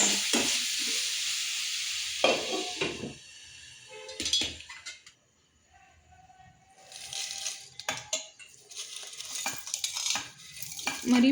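Mushroom curry cooking in oil in a kadai, with a sizzle and occasional clinks of a ladle against the pan, close and fairly quiet, broken by short gaps and someone speaking at moments.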